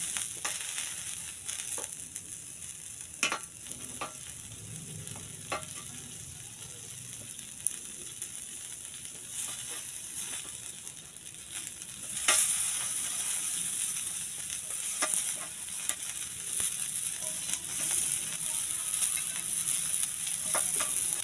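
Padang satay skewers sizzle over a grill in a steady, soft hiss with occasional crackles and pops, growing slightly louder partway through.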